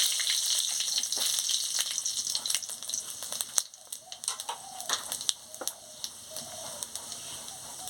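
Panch phoron spices and dried red chillies crackle and sizzle in hot oil in a kadai, a steady bright hiss with scattered sharp pops and spits, close and continuous.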